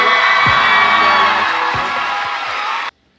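A loud crowd at a Philly Slam League championship poetry slam cheers, whoops and shouts for a competing team in a dense, sustained roar that cuts off abruptly into silence.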